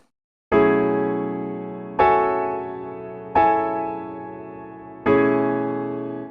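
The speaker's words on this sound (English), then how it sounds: "So the 5th voicing is going to be a sus13 chord." A piano sus13 chord in B is struck four times, each ringing and slowly fading before the next, in a clean, close recording.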